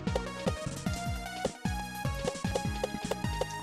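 Upbeat background music from a Mario Kaizo video game, with punchy rhythmic bass stabs and bright melodic synth tones in a steady driving beat, moderately quiet, with no talking.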